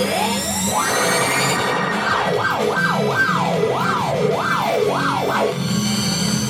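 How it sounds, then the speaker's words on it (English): Wailing police sirens blare from a Getaway virtual pinball table, a loud continuous rising-and-falling electronic siren with a steady sweeping rhythm over machine sounds. "If you had it up super loud and you had the police sirens going and stuff."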